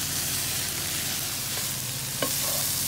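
Garlic dropped into a pan of fried onions, producing a loud, continuous close sizzle with stirring and one brief clatter near the end.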